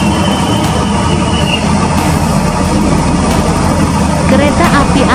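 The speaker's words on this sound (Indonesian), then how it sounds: "Kereta api Argo Wilis langsung stasiun Ciawi." The Argo Wilis passenger train rolls straight through Ciawi station, a loud, steady rumble of wheels and engine heard up close from aboard another train, with no break in the noise.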